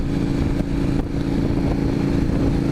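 An Indian FTR 1200 V-twin motorcycle engine pulls at low revs in a high gear, a loud, steady, deep throbbing drone close by with wind rush and no talk.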